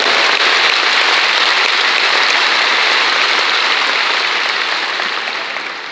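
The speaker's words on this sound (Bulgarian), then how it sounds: "Аплодисменти специално и за този човек от мен." Loud, dense applause from an awards-ceremony audience fills the hall, a continuous rain-like wash of many hands clapping close by that holds steady and then begins to taper off toward the end.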